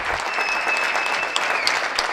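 Steady, dense crowd clapping at a May Day concert of memorialist singer-songwriters, greeting a guitarist from Fuente Andalucía, with a few sharper claps standing out near the end.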